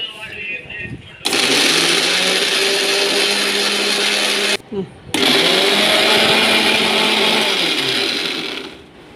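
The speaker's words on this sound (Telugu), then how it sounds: "ఇలా పచ్చిమిరపకాయలు వేసుకొని మిక్సీ పట్టుకోవాలి" A mixer grinder whirs loudly while grinding green chillies with salt for gongura chutney, running in two long bursts separated by a brief pause, then winding down; a voice speaks faintly at the start.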